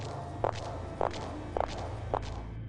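High-heeled shoes clack four times in a slow, even rhythm, sounding from an upstairs floor in a horror radio drama, each heel strike sharp and distinct over a low background hum.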